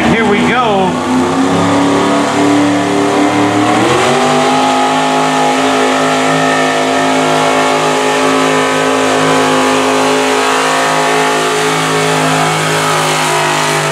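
A drag racing car launches at the green light, its powerful engine roaring at full throttle, pitch climbing steeply at first before holding a loud, sustained howl throughout.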